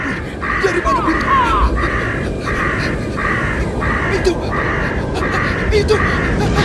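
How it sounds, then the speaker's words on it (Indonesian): A large flock of crows approaches, cawing in a steady repeated pulse of harsh calls over a loud roaring, rushing background, with voices shouting amid the din. "Itu bukan awan. Itu burung-burung."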